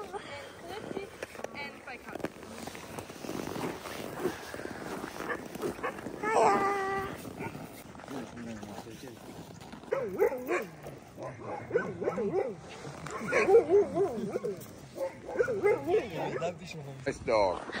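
Huskies in Lapland yip, bark and whimper in excited bursts at close range, mixed with frequent people talking over and between the dog sounds.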